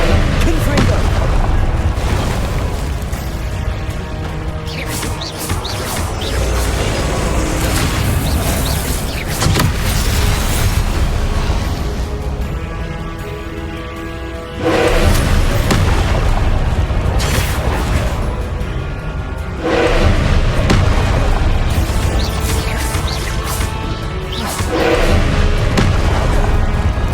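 Spells are cast in a magic duel in the game Hogwarts Legacy, with repeated heavy booms and explosions over a constant dense roar of combat effects, and a few shouted spell names.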